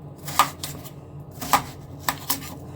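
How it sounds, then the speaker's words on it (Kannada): A knife chopping watermelon on a board for a watermelon cake, a few sparse, soft thuds spaced unevenly, close and fairly quiet with no talking. "ಇದನ್ನ ನೀಟಾಗಿ ಚಾಪ್ ಮಾಡ್ಕೊಳ್ಳೋಣ."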